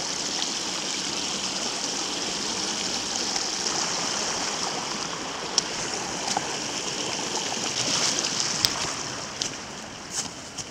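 Cold stream water flowing and splashing steadily in a park in sub-freezing weather, a continuous close rush with occasional small splashes and knocks as someone wades through.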